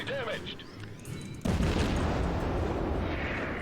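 Naval gunfire from a Tier I Erie class cruiser in the World of Warships video game, a sudden loud blast followed by a sustained rumbling roar, after someone briefly speaks.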